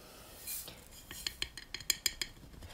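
Spoon clinking and scraping against a bowl while ginger garlic paste, red chillies and oil are mixed together, a run of light, close metallic taps that quicken near the end, with no talking.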